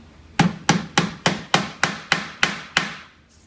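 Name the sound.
tack hammer nailing tacks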